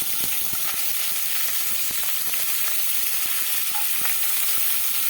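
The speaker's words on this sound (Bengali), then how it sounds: "আমি দু চামচই তেল দিয়ে নেব কড়ার মধ্যে অল্প একটু লবণ দিয়ে দিলাম আর লবণের উপরে আমি দিয়ে দেবো পেঁয়াজটা" Chopped onion sizzles steadily in hot oil with a little salt in a wok, a dense, close hiss with scattered crackles and pops running through the whole stretch.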